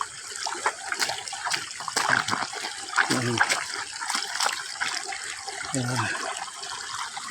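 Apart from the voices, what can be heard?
washing muddy slippers in flowing water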